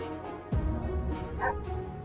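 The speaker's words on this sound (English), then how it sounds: "I heard a dog." A dog in a video game gives a single sharp bark, then a few softer yips and whimpering sounds over a low ambient hum.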